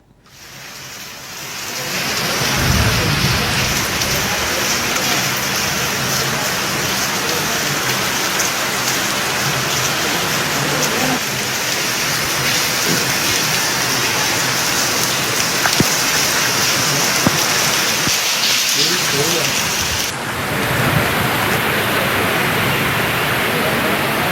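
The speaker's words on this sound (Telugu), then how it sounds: "హైదరాబాద్ లో పలు చోట్ల భారీ వర్షాలు కురుస్తున్నాయి" Heavy rain pours down on the streets of Hyderabad in a steady, dense roar that holds at an even loudness for the whole stretch, with faint voices underneath.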